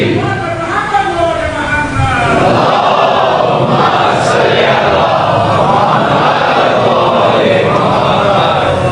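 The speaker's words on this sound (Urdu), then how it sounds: "آپ سب میرے ساتھ مل کے دونوں ہاتھوں کو بلند کر کے پوری طاقت و توانائی کے ساتھ لبیک کہیں، لبیک یا حسین" A large crowd at a Muharram majlis in Richmond Town, Bangalore loudly chants "Labbaik ya Hussain" in unison, a sustained, dense roar of many voices filling the hall throughout.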